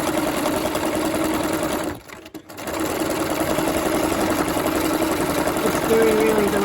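A sewing machine stitches on water-soluble fabric with a steady, close, rapid mechanical hum. It stops briefly for about half a second, then resumes at the same even pace.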